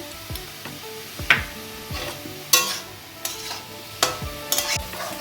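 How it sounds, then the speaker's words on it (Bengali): Onions sizzle in a pan while a utensil scrapes and clinks against it in irregular stirring strokes, with faint music behind. "পেঁয়াজটা লাল করে ভাজা হয়ে গেছে"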